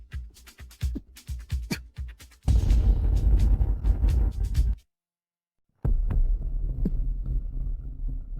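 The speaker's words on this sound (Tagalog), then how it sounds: "bumibilis ang tibok ng puso" A racing heartbeat effect in a hospital drama scene, quick rhythmic thumps at first, then a dense loud throbbing swell that cuts to silence before the pounding resumes.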